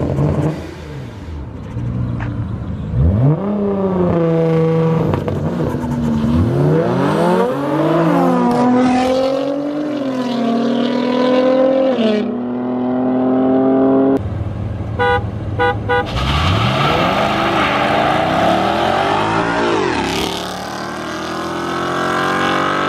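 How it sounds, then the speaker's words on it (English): A Nissan GTR and a BMW street racing at night, their engines roaring loudly through repeated rising accelerations with gear shifts, a brief horn-like toot in the middle, and a final hard pull fading off. "GTR versus BMW."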